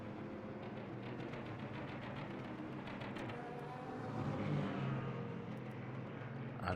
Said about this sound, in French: le bruit de ces voitures est tout à fait exceptionnel